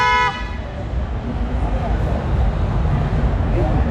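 A Bosch car horn of the kind fitted to a Toyota Innova honks at a crowded trade show, one short loud blast at the start followed by steady crowd chatter and voices throughout.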